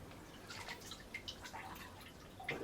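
Water dripping off a soaked plaster bandage, scattered small faint drips and trickles falling irregularly in a quiet room.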